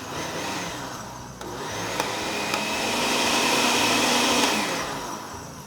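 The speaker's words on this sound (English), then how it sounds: "let's just go ahead and blend this all together" A blender whirs steadily for several seconds, mixing milk, cottage cheese and spices for mac and cheese, a loud continuous motor drone with a slight rise in pitch midway, no voices.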